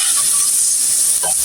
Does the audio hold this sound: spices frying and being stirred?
yes